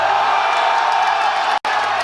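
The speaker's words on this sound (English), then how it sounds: "The crowd likes it." Crowd at a powerlifting championship in Sheffield cheering after a squat attempt, a dense, loud roar with whoops and shouts that carries on steadily, broken by one very short dropout.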